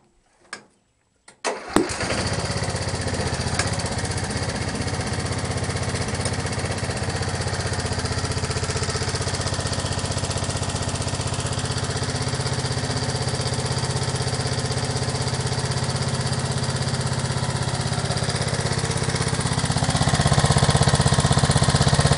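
An 8hp lawnmower engine running on an HHO dry cell sputters into life after a brief start attempt, then holds a loud, steady, close-up running drone that rises slightly toward the end.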